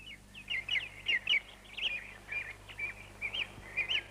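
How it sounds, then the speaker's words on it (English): Birds sing in quick bright chirps and trills, a run of short repeated phrases close by over a faint low hum. "The birds were singing."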